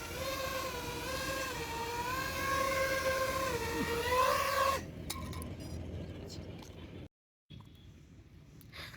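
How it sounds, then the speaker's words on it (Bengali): A homemade drone descending to land, its motors giving a tonal whine whose pitch wavers and climbs before cutting out abruptly midway, leaving quieter outdoor ambience and a brief dropout. "ড্রোনটাকে ল্যান্ডিং করানো আসলে খুব কঠিন কাজ"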